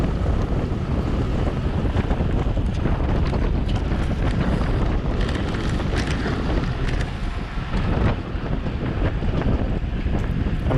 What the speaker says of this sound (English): This is pretty strong, like head crosswind